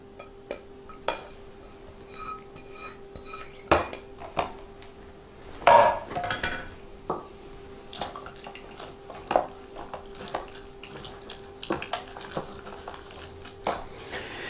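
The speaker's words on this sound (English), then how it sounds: "we're going to press it through this ricer into the bowl" Tamarind pulp and seeds pressed through a metal ricer into a bowl, with scattered clinks, knocks and scraping at irregular moments, including one louder clatter partway through, and no talking.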